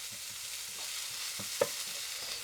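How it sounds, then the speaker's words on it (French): Chopped onions and garlic fry gently in a pan, a faint steady sizzle with a few soft stirring scrapes and one small clack. "Une fois que les oignons ont commencé à griller comme ça, j'ajoute l'équivalent d'une belle gousse d'ail haché et on va le faire cuire avec le reste"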